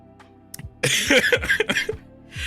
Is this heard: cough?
yes